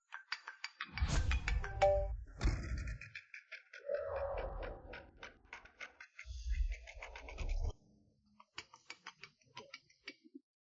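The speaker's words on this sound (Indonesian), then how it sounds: "aku mau menerima telepon dulu" A mobile phone ringtone plays a bright, tinkling electronic pattern of rapid repeated notes. It runs throughout under faint low rumbles and continues alone toward the end.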